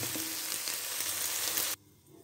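Onions frying in oil in a kadai, a steady, close, loud sizzle that holds evenly and then cuts off abruptly just before the end.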